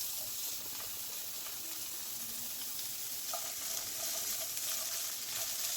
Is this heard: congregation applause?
no